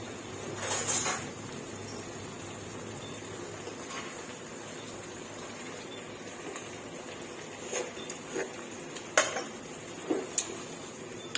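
Cooked tofu tubes being stirred and mixed in a pan with black lingzhi mushrooms and sweet onion, soft scraping under a faint sizzle, with sharper utensil clinks early on and again toward the end, no talking.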